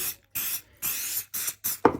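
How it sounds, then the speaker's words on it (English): Apple Brand Guard protector sprayed onto a Louis Vuitton Croisette leather bag: five short, close aerosol bursts in an even rhythm with brief pauses between them, heard alone. "So I'm gonna spray him really well."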